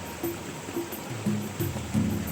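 Clear river water ripples and rushes through a forest near Wonoboyo village in Bondowoso, a steady wash of flowing water with a few brighter swirling surges, fairly close and without voices.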